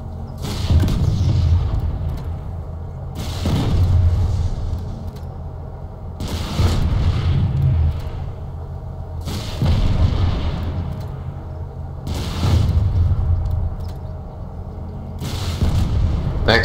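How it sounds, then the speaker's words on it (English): M9 Skep rocket launcher rockets striking a Vanguard tank in a video game, six heavy booming impacts at a steady rhythm of roughly one every three seconds, each with a rumbling tail and mechanical clatter. "6 rockets to the side set the Vanguard on fire."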